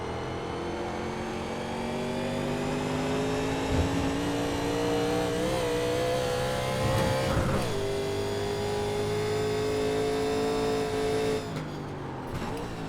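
A NASCAR Legends 1987 race car at Watkins Glen in iRacing holds a steady, droning engine note that climbs slowly, with a brief shift-like dip near the middle and a drop toward the end, heard alone and close.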